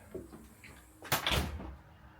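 A storm door on a house in Lexington, South Carolina swings open and bangs shut, a quiet creak followed by a sharp rattling clatter, nearby and with no talking.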